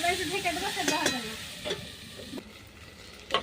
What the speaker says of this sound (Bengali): মশলাটা আদা রসুনটা ভালো করে ভাজা ভাজা হয়ে গেছে